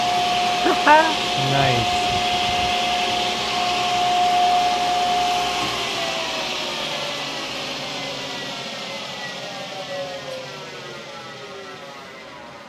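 A planer and jointer machine, its flat drive belt slack and slipping on the main pulley, spins up into a loud, steady motor whine. The whine holds for several seconds, then softens and thins out, with a brief voice near the start.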